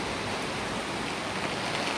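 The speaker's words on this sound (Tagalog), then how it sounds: "wala nang tigil yung ulan" Rain pours without pause onto a backyard, a dense, even hiss of steady drops that fills the whole moment with no voices over it.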